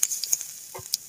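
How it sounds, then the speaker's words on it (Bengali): Onions fry in a pan for soyabean curry, producing a close, hissing sizzle with a few sharp crackles and a soft stirring scrape over about a second. "পেঁয়াজটা ভাজা হয়েছে এখন আমি উঠে নিব"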